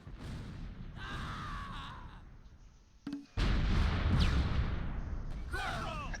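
Mortar and artillery barrage from a Close Combat World War II strategy game: dull booms and crumbling blasts rolling through the whole stretch, heaviest in the second half, with a sharp crack near the middle.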